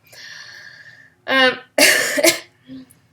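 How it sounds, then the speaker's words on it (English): A few harsh coughs and throat-clearing bursts close to the mic, with brief pauses between them and no talking. "Sorry, coughing."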